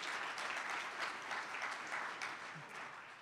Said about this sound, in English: we deserve a hand clap after that one